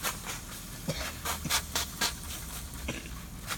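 Water is sprayed onto a fire in a fire-training box, sending steam hissing in a series of short, sharp bursts close by, with no voices.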